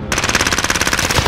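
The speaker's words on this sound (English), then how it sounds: "Slid right under that guy's CX9 fire." Rapid automatic CX9 gunfire in a shooter video game, a loud continuous burst of evenly spaced shots lasting just over a second.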